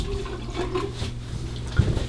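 Tap water runs steadily while a face is rinsed with cold water after a shave with a Razorine shavette razor, a continuous close wash of splashing flow.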